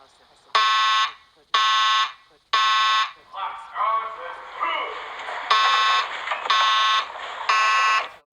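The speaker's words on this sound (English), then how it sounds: "I just heard the fire alarm going on" Fire alarm at a Chuck E. Cheese's restaurant sounds in loud, evenly spaced buzzing blasts, interrupted midway by a voice speaking before the pulses resume.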